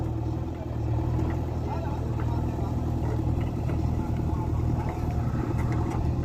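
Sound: JCB excavator working to deepen a pond

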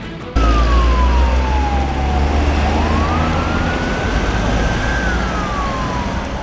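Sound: ambulance siren leaving a car crash scene

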